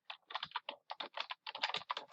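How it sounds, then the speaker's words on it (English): Quick bursts of keystrokes on a computer keyboard, close and crisp, tapped in irregular clusters with brief pauses between, faint and alone with no voices. "You're going to type in PHET,"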